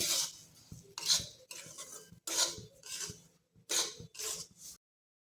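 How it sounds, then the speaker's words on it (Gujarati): A spoon scrapes and stirs semolina roasting in ghee in a pan, rhythmic bursts of rasping strokes about once a second, close and clear with no talking. "ઘીની અંદર આપણે સોજીને અહીંયા સરસ રીતે શેકી લઈશું"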